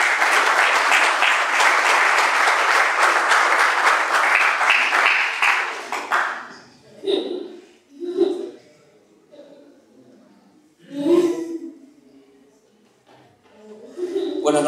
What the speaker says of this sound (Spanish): vamos a darle un fuerte aplauso a nuestro expositor